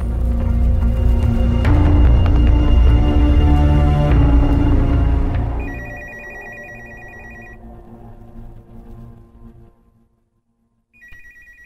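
A telephone rings with repeated electronic trills over loud background music and chatter, then the ringing continues more clearly after the music drops, stops briefly, and starts again at the end.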